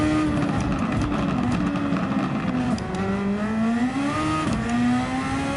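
Superformula race car in Gran Turismo 7 at Le Mans, its engine droning steadily at high revs with gentle pitch rises and dips between upshifts, loud and continuous.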